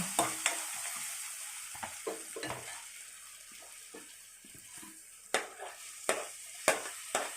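Ginger paste and tomato masala frying in a pan for Nellore fish curry, a soft continuous sizzle broken by several sharp spoon scrapes and clinks as it is stirred.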